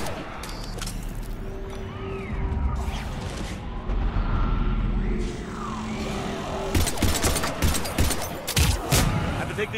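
Rapid bursts of gunfire in the video game Mass Effect 3 during a battle on Earth, loud repeated volleys with crashing impacts, intensifying in the final seconds, with some voices amid the fighting.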